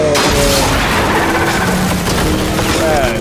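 Dense, loud gunfire in the video game Uncharted 4, with rapid overlapping shots and booms filling the whole stretch and a voice briefly audible underneath.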